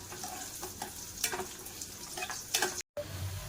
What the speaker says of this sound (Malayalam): അപ്പോൾ ഇത് ഞാൻ നെയ്ക്കകത്താണ് വറുക്കുന്നത്.